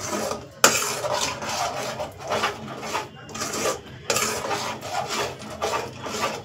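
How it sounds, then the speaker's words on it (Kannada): Ingredients are mixed by hand in a pot, giving repeated rough rubbing and scraping strokes in a loose rhythm with a sharp clack early on, close and fairly loud, with no talking. "ಈಗಿದು ಎಲ್ಲ ಚೆನ್ನಾಗಿ ಕಲಿಸ್ಕೊಡ್ರಿ."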